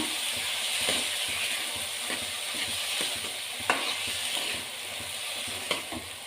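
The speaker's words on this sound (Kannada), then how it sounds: "ಅರಿಶಿನ ಹಾಕ್ಕೊಂಡು ಫ್ರೈ ಮಾಡ್ಕೋಬೇಕು." Steady sizzling of food frying in hot oil with turmeric, with a few sharper clicks and scrapes of stirring in the pan. No voices.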